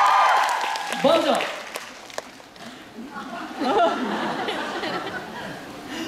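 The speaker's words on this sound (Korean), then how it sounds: "큰 박수 부탁드리겠습니다." Concert audience applauding at a vocal group's stage farewell, a broad wash of clapping with scattered laughter and chatter, loud at first, then fading under crowd murmur and a voice.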